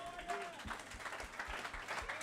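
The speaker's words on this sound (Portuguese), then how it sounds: "Vamos aplaudir o Senhor Jesus." Rhythmic group clapping in a steady beat at a church service, with a preacher calling out in Portuguese over it in a reverberant hall.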